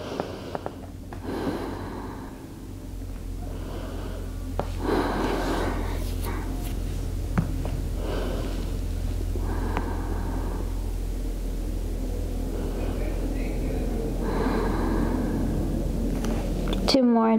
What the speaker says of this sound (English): Two more, deep inhale, deeper exhale